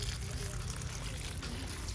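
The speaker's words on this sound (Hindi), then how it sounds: "इसमें ऐड करेंगे हम ठंडा पानी।" Cold water is poured onto boiled soya chunks in a home kitchen for soya chaap, a soft continuous trickle and splash that is faint and close with no talking.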